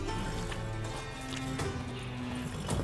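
Horse hooves clip-clopping with a faint whinny in the video game The Witcher 3, soft and moderately distant, with rhythmic hoof thuds over a low game ambience and no talk.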